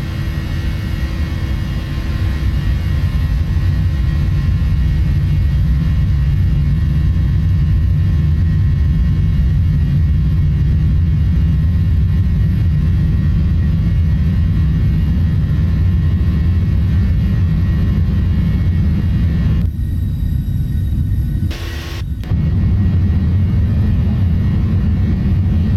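Boeing 737-800 jet engines spooling at takeoff power on the runway, a loud, steady low roar and rumble that holds for the full length with a brief dip near the end.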